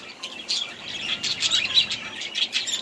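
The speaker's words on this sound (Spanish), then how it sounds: "Mis pájaros." Pet birds kept at home chirp and tweet in a busy, continuous chatter of quick high calls, moderately close, with no talking over them.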